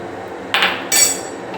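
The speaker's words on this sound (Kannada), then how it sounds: "ಕುಕ್ಕರ್ ಲಿಡ್ ಕ್ಲೋಸ್ ಮಾಡೋಣ" A pressure cooker lid is pushed shut over a pot of egg and chicken sambar, giving two short metallic clanks about half a second apart, fairly close, with quiet kitchen background between them.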